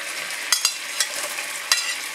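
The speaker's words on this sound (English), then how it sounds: "in that sizzling leftover oil in the pan, I will saute the remaining onion and mushrooms" Onions and mushrooms sautéing in hot leftover oil in a pan, a close continuous sizzle broken by a few sharp stirring clicks and spatters, no talk.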